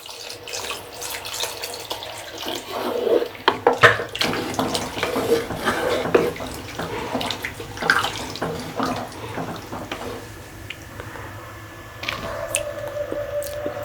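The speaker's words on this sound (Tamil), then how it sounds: "இப்போ இதுக்கு தேவையான அளவு தண்ணியும் சேர்த்துக்குங்க" Water splashes and gurgles into a pot of cooking fish curry (kanakatha meen kulambu), with wet squishing and a few clinks, steady and close for several seconds with no talking.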